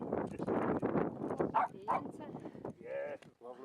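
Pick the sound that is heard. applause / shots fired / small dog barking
small dog barking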